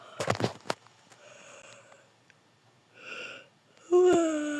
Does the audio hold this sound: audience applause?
no